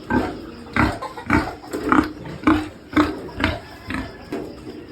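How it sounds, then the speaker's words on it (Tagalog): A breeding boar pig on a farm grunts and snorts repeatedly at close range, giving a steady series of rough, rhythmic grunts about every half second. "so ito po yung barako natin."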